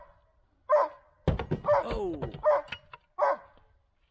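A puppy gives several short, sharp yaps, close and spaced about once a second, with a thump and a brief spoken exclamation between them.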